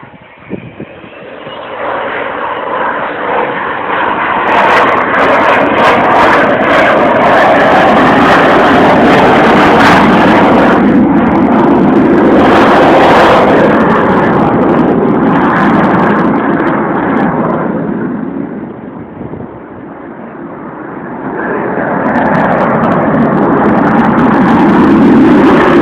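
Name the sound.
Avro Vulcan XH558 bomber flying past with wheels down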